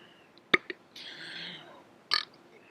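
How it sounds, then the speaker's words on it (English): A person lets out a burp, a short sharp sound followed by a longer rough belch and another brief burst, close and loud in a quiet room. "Let me burp."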